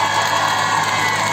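An audience at a school event claps and cheers for a man who donated a gate, a brief, dense, steady wash of crowd applause with no speech over it.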